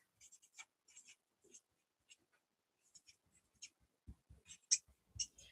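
A marker writing on pattern paper while an A-line skirt is drafted, heard as quiet, close, dry scratchy strokes in short separate bursts with soft low thumps and gaps of silence between them.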